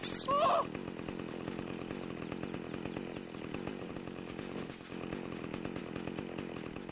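A chainsaw in the Open Season video game runs as a steady, continuous buzzing drone over several seconds, with a brief louder sound at the start and game background underneath.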